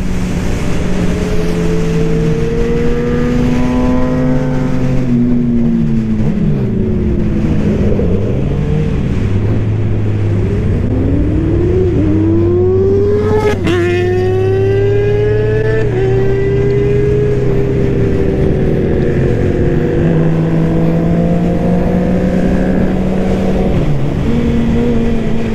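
A Suzuki GSX-R750 motorcycle engine races along a street, loud and close throughout, repeatedly revving up through the gears and dropping back with sweeping pitch changes, with other engines in the background.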